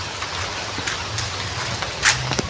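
Rain falling during a walk outdoors under a broken umbrella, a steady diffuse hiss with scattered drops and small taps, a brief louder spatter near the end.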